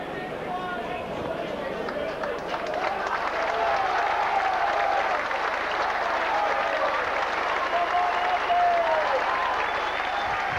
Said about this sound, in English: So a round of applause as Bernard Dwyer's taken straight off